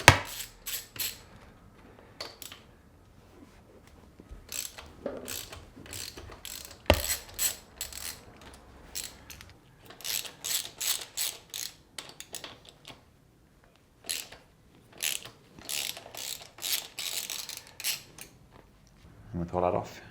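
A ratchet wrench with a 6mm Allen bit loosens the pinch bolts on the top yoke of a Triumph Tiger 800 motorcycle, giving close bursts of rapid metallic clicking separated by short pauses, with quiet handling noise between the bursts.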